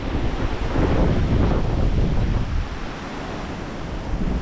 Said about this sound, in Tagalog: lumakas na naman ang hangin